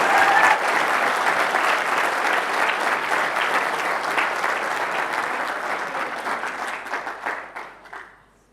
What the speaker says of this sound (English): Round of applause for Tess.